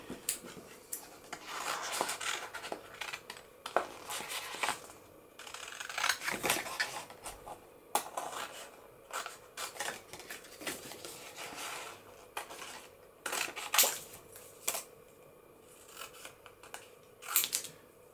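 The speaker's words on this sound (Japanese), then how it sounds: "次に二つ目の部品を切り取りましょう。" Scissors snip through paper while cutting out a part for a paper 'jumping chicken' craft, with irregular, close, crisp cuts and rustles spread throughout and no talk.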